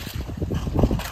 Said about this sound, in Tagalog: Taras ng hangin.